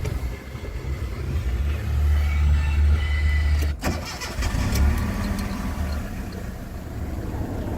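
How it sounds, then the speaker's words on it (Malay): A car engine runs at a steady idle just after starting, letting it warm up, with a low continuous hum near the microphone, a sharp click partway through and the engine settling back into its even idle. "Okey, kereta tengah running, so kita bagi dia panaskan dulu."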